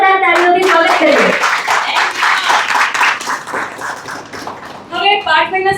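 Audience applause welcoming a guest's mother at a Gujarati literary gathering, a steady wash of clapping running under loud voices, then swelling again near the end.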